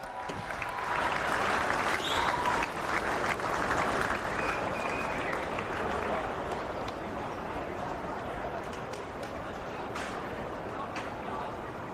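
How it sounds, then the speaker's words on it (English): Crowd applause at the ground during the pre-match coin toss of a Geelong football grand final, St Joseph's against St Mary's, broad clapping and cheering that peaks early and then eases slightly, with faint crowd voices mixed in. "A round of applause for Jock McMahon."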